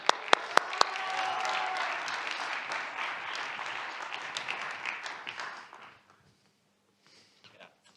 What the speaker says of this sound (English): a big welcome and applause to Alessio Boschi.